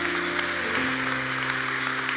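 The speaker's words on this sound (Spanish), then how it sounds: "Si vas a aplaudirle, apláudele a Dios." A church congregation applauds during a Spanish-language sermon, with steady clapping over sustained organ or keyboard chords that shift pitch partway through.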